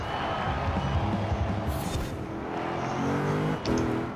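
A car engine in Forza Horizon 4, driven around Edinburgh, hums steadily as it slows, with shifting engine tones marking gear changes, loud and continuous throughout.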